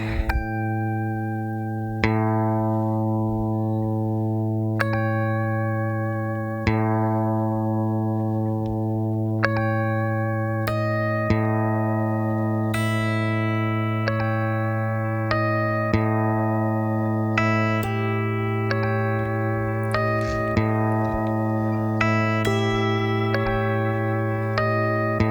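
Layered guitar loop recorded and overdubbed on an Empress Zoia looper pedal, with sustained droning low tones under a sequence of plucked, ringing notes that decay with echo, continuous and fairly loud.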